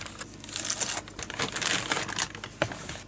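EasyPrint LR-SP150HE toner cartridge for a Ricoh printer pulled out of its crinkly protective packaging, a close run of irregular plastic rustles and crackles over about three seconds.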